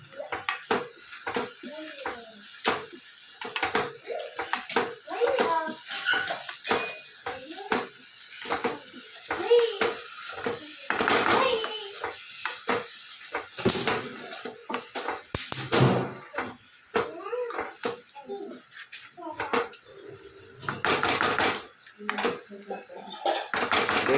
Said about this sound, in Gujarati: હા હા, સરસ બધું મિક્સ કરી લઈએ.